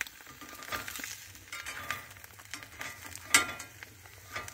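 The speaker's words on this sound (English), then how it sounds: "That cheese is melting on the pan." Cheese frying on a hot pan for birria tacos, a steady low sizzle with soft crackles and a brief stir or scrape partway through, close by with no talking.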